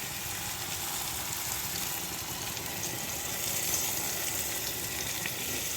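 Meethi herbs and garlic frying in hot oil, a steady, dense sizzle held close and even throughout, with no talk.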